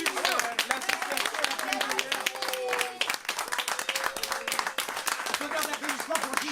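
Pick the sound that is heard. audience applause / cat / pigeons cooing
audience applause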